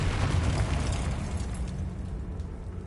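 A Confringo fire spell bursts in the Hogwarts Legacy video game, a short rumbling blast with a dense low-end boom that decays into a fading roar over a few seconds.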